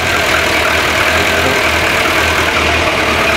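A van engine idles steadily and loudly after a jump start from a TOPDON JS2000 booster, a close, even rumble with a low pulsing throb and no talking.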